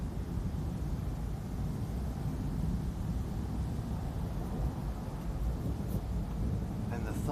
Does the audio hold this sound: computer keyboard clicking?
no